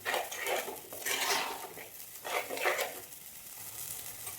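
Spice paste sizzles in hot oil while a utensil stirs and scrapes against the pan in uneven bursts, close up, with no talking.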